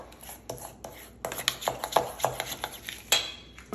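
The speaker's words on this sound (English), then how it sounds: "we're just gonna mix this all together" A spoon stirs and scrapes through a truffle oil mustard paste in a bowl, making close, repeated clinks and scrapes in an uneven rhythm, moderately loud, with no voices.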